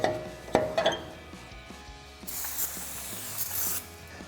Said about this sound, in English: we'll grab some brake cleaner and spray down the surface